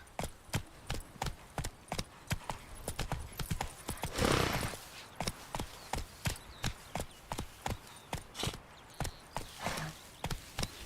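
Roach, the horse from The Witcher 3, pounds along in a steady rhythmic gallop of sharp hoof clops, close and clear, with a brief whinny and rush partway through.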